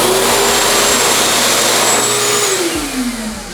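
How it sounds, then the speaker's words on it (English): AIKE automatic hand dryer mounted on a wall at home, running with a loud, steady broadband roar and whine that holds throughout, then drops slightly in pitch near the end. "the AIKE automatic hand dryer, mounted and everything"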